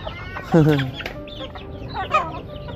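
Hens cluck close by in a farmyard, one loud burst followed by softer, scattered clucks and squawks over a brief stretch.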